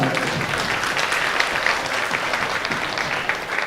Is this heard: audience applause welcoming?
yes